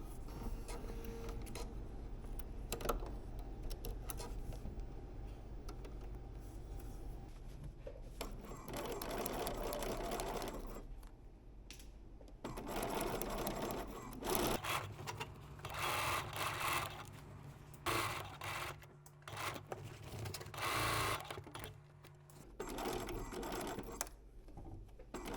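A home sewing machine stitches a men's shirt with snaps in long continuous runs, a steady whirring hum that stops and restarts several times with brief pauses between seams, close and alone without talk.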